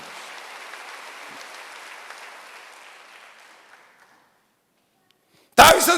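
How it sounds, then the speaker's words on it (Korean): A church congregation at a Korean Wednesday evening service claps, the dense applause holding for about four seconds and then fading to silence. A loud burst of voice follows near the end. "박수 한번 하세요."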